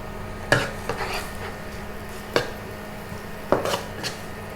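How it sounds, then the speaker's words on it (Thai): Garlic is stir-fried in a pan for a sauce, with a few sharp utensil strokes against the pan over a steady low sizzle, heard up close and with no speech. "แล้วก็จะผัดกระเทียมให้หอมก่อนนะคะ"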